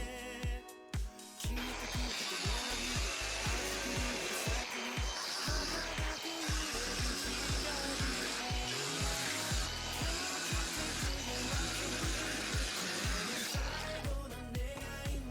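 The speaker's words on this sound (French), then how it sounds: "on se retrouve avec une coupe qui est relativement propre, parce qu'on pourrait penser le contraire avec une meuleuse" An angle grinder with a thin cutting disc slices through roller shutter slats, a loud continuous high whine and grinding rasp that runs almost unbroken after a brief start, close and harsh with no talking.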